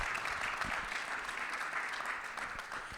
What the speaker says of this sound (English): give a big round of applause to our panelists